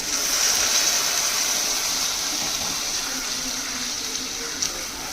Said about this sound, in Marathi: याच्यामध्ये आपण थोडंसं पाणी घालूया